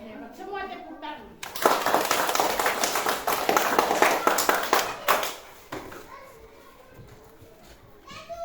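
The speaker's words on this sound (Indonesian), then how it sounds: "Semua tepuk tangan." Schoolchildren in an Indonesian primary science class clap together after reciting plant parts, a dense burst of hand claps lasting a few seconds amid children's chatter, with children's voices before and after.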